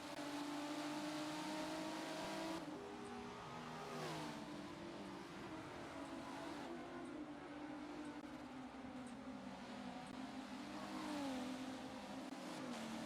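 Race cars at the Brands Hatch circuit roar past in a close pack, engines rising and falling in pitch as they accelerate and shift, loud and continuous throughout with no talk.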